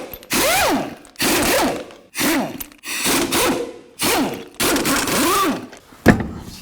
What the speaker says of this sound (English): take off all the lug nuts